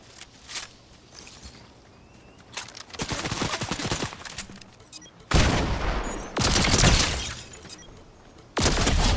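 Rifle gunfire in a video game, loud rapid bursts of shots and booming blasts that come in dense waves, with brief quieter gaps between them.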